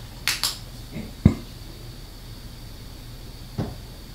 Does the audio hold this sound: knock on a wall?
yes